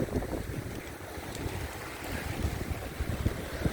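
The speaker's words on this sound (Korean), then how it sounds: "파도가 넘쳐가지고 앉아있지 못합니다." Strong wind and rough waves wash over the sea rocks at Adeul Rock in Jumunjin, Gangneung, a constant roaring surge with buffeting wind noise on the microphone and no voices.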